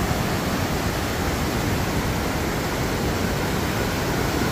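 The Urubu waterfall in Primavera, Pernambuco, runs at high volume after heavy rain, giving a loud, steady, unbroken roar of rushing water with no voices over it.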